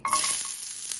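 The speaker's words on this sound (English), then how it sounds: "I'm gonna add the veggies and cook it down a little bit" Veggies and homemade cured sausage fry in a hot pan, a steady close broadband sizzle with a brief stir at the start.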